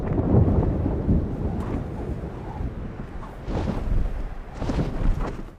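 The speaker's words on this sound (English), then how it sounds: "A storm is a-brewing." Rumbling thunder from a thunderstorm in a fantasy TV drama episode, heard alone as a continuous low roll with two louder surges of cracking thunder toward the end.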